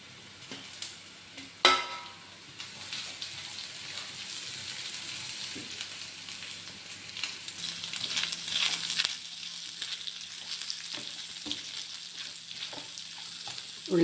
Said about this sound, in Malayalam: ഇപ്പോൾ ഇത് മൊരിയുമ്പോൾ കുറച്ച് തേങ്ങ കൂടി ഇട്ടിട്ട് വറുക്കാം.